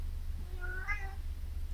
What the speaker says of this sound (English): And a cat over there in the box is Balto.